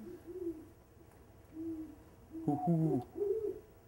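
A pair of great horned owls hoot in the Vermont night, the female's deeper series answered by the male's overlapping hoots, soft and moderately distant with short pauses between phrases.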